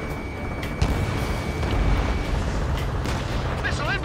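Aircraft cannons in Ace Combat 7 rattle off a continuous, dense stream of gunfire over a steady roaring backdrop, loud and unbroken for several seconds.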